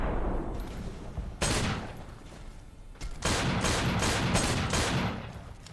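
In the video game Fallout: New Vegas, heavy gunfire and grenade blasts hit in loud bursts: a couple of big booms, then a rapid run of close, repeated shots.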